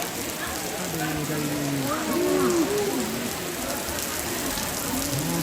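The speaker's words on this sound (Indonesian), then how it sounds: "Kita kehujanan." Rain falls steadily outdoors as a constant hiss during a funeral ceremony gathering, with people talking faintly underneath throughout.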